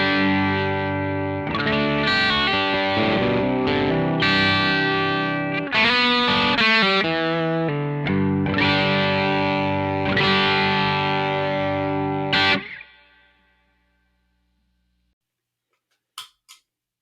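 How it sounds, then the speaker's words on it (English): Electric guitar through an Analogman King of Tone overdrive pedal on its red side with the high gain mod, strummed chords and riffs with crunchy overdrive for about twelve seconds, then ringing out into silence before two faint clicks. "So let's just go straight into the King of Tone. Red side. I do have the high gain mod."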